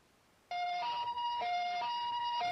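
An ambulance siren wails loudly in a two-tone pattern, alternating high and low notes in a steady rhythm, as it responds to a worker's electrocution at a car repair shop.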